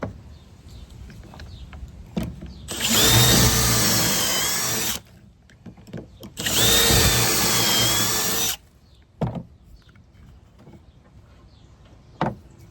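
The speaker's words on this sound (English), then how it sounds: "Now when you're drilling, you're going to put this into your drill, and you're going into these holes here" Power drill boring pocket holes in wood for a backyard ice bucket drink stand: two loud sustained whirring runs of about two seconds each, separated by quiet pauses with small handling clicks and knocks.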